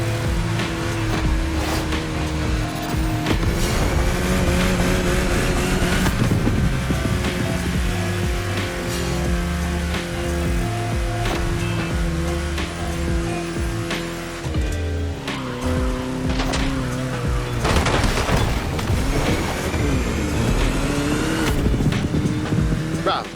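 Car cruising in the racing game The Crew Motorfest, its engine droning steadily and loudly throughout with shifting pitch, occasional revving surges, and a voice talking over it at times.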